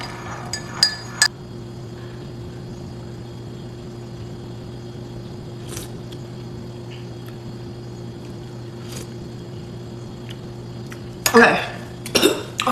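A spoon clinks against a glass while a ginger drink is stirred: a few sharp clinks at the start, a long quiet stretch with faint taps, then a louder burst of rapid clinking near the end.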